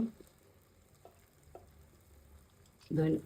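Mixed vegetables fry quietly in a pan as green chilies go in. There is a faint, low sizzle with a few soft scrapes, then a louder burst of stirring and clatter at the end.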